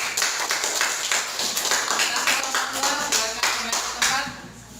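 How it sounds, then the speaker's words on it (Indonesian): A classroom of students claps for a presenting group, brisk, close, rhythmic applause from a small crowd, fairly loud and tapering off near the end. "Beri tepuk tangan untuk kelompok 2"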